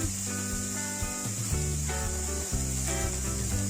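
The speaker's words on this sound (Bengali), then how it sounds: "জিরে গুঁড়ো, মশলাগুলো দিয়ে ভাজতে থাকবো" Chilli, turmeric and cumin powder frying in hot oil for masala pulao, a loud, steady hiss and sizzle with low bursts of background music running beneath it.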